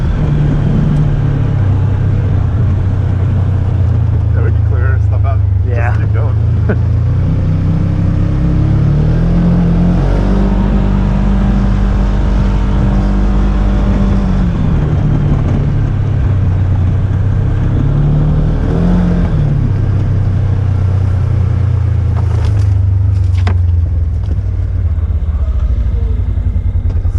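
A 2021 Polaris Ranger 1000 EPS side-by-side drives at night, its engine droning steadily close by, rising and falling with throttle and holding a higher pitch through the middle before easing back, with no talking.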